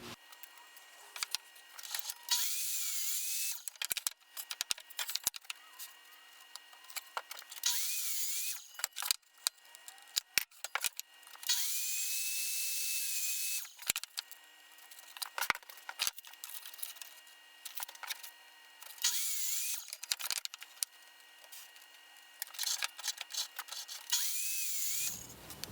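A wooden board being cut to length for a drill press cabinet, with bursts of loud high-pitched tool noise separated by quieter gaps, clicks and knocks.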